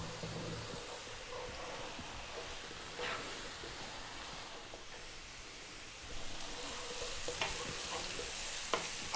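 Aubergine frying in a pan while being stirred almost constantly, a steady close sizzle with occasional sharp scrapes of the utensil, getting slightly louder toward the end, no voices.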